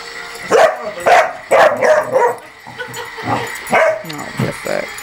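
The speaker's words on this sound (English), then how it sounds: "That's why she's barking at it." A dog barks repeatedly at an object it fears, sharp close barks and yips in an uneven rhythm mixed with whimpers, loud and near.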